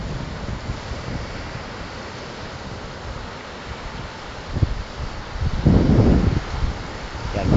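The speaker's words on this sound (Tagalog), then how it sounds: "Makikita natin yung mga alon." Sea waves break on the rocks at Burgos, Ilocos Norte, with a steady roar of surf and wind and a louder surge near the end, with no talking.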